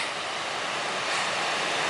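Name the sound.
water flowing down a natural rock water slide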